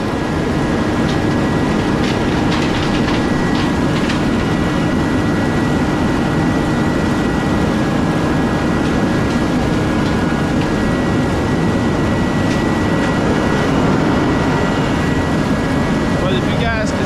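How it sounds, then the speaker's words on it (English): A concrete mixer truck's engine runs loudly and steadily, making a dense, unbroken roar. A person talks underneath it. "because the truck is mighty loud."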